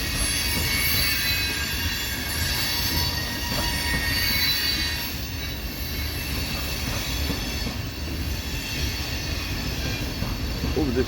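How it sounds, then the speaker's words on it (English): A freight train rolls slowly out of a rail yard close by, its wheels squealing steadily over a heavy continuous rumble that lasts throughout, with no talk. "the ground is shaking as this train is going by me here"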